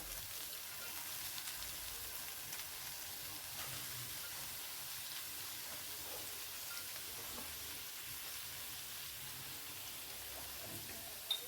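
Carrots and cabbage fry in spiced oil, giving a soft, steady sizzle and crackle that continues without a break and stays fairly faint, with a single sharp tap near the end and no voices.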